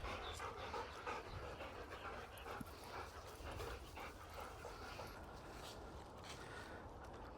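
Several dogs out on a group walk pant steadily and close by, with faint whimpers and a brief yip mixed into the breathing against open outdoor background noise.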